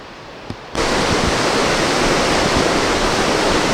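Loud, steady roar of a waterfall on the Napisagut River in New Brunswick, Canada, bursting in abruptly after a brief quieter moment and then rushing on without a break.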